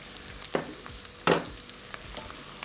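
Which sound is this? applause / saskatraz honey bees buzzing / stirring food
stirring food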